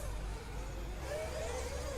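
An RC race car runs down the front straightaway at a Florida championship qualifier at Mills Pond raceway, a steady distant motor whine over broad track noise, with a faint rising tone toward the end.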